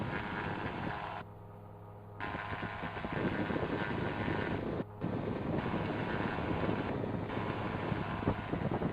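SeaRey amphibious aircraft taxiing on water, its engine droning loudly and steadily with heavy wind buffeting the microphone, power dipping briefly and then building back up.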